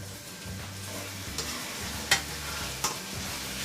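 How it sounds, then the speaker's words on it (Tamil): Onions sauté in a pan for a Koduva fish curry, giving a steady close sizzle with a couple of sharp clicks from a spoon stirring against the pan, no voices. "இப்போ வெங்காயம் ஒரு 2 நிமிஷம் வரைக்கும் கொஞ்சம் வதங்கட்டும்."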